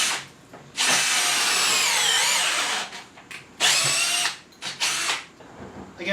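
Greenworks 24V brushless drill driver running in bursts, a high whining motor spinning up for a long pull, then several shorter stop-start runs separated by brief quiet gaps.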